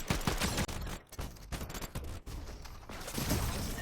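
Rapid bursts of gunfire from a video game, with repeated sharp shots and loud crackling volleys that fill the whole moment, close and dense, with no talking.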